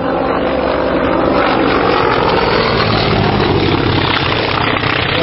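Polikarpov I-153 biplane flying overhead in New Zealand, its propeller engine giving a loud, steady drone that fills the whole stretch without pause.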